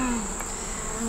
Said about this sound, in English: Never been this close to bees before?